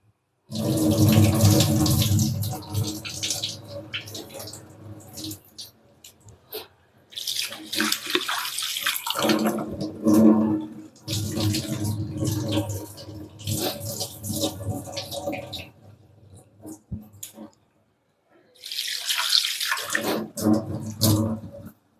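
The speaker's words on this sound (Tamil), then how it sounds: "இப்போ தண்ணியில் விட்டு நம்ம கழுவி எடுத்துக்கலாம்." Flattened rice (aval) being washed in water in a home kitchen: running, splashing water in several loud bursts separated by short pauses, with no talk over it.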